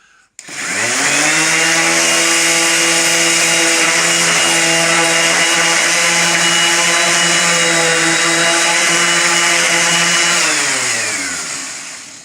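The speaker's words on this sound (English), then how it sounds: "we're going to start with an 80 grit bit on the sander, and we're going to show you how quickly this goes" A power sander fitted with 80 grit paper strips old paint from a window, starting abruptly into a loud, steady whining drone that holds for about ten seconds before winding down.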